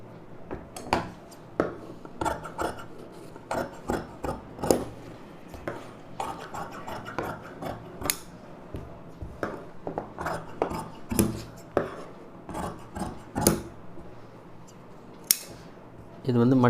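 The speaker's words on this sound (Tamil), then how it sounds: "இப்போ இதுக்கு பேக்கில் அப்படியே கட் பண்ணிக்கலாம்." Scissors cut through doubled fabric for a baby's lined frock, making a long run of close, irregular snips and light metallic clicks with short pauses between the cuts.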